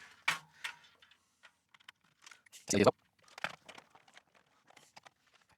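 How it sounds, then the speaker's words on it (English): Commodore 64 keyboard being tested, with scattered light key clicks and taps, one louder clack midway, under quiet talk. "the keyboard needs testing as well"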